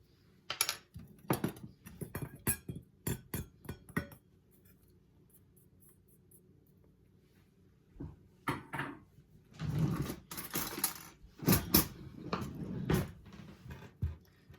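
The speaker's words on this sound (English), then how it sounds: "I always take my knife so I can get it in here and get it stirred up really good" A knife scraping and clinking inside a jar of homemade spice mix with basil and oregano, quick sharp taps in bursts separated by a quiet pause, close and clear.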